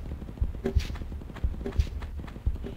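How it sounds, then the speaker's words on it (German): Horse hooves clopping at a steady walking pace in Tomb Raider 1 Remastered, regular paired thuds repeating about every second, moderately close with no voices. "Ich höre es wiehern."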